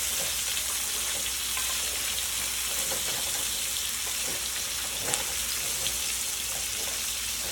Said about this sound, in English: we're gonna baste this meat with all them good juices right there